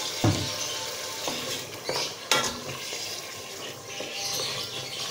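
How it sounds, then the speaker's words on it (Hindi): Mutton pieces being fried and stirred in a pot with garlic and ginger paste, a steady sizzle broken by occasional scraping clatters of a spoon against the pan. "अब हम इसको अच्छे से भून लेंगे।"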